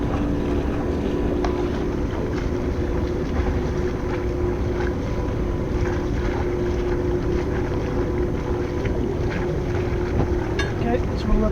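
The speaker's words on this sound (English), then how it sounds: "We're motor sailing here the last bit just to get into position." Sailboat motor sailing near a bridge, with a steady low engine drone and rushing wind and water noise throughout, continuous and fairly loud.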